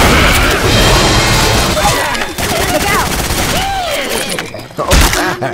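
Rapid gunfire in Left 4 Dead 2, fired at a jockey infected, with dense loud bursts of shots continuing throughout amid game noise and shouted voices.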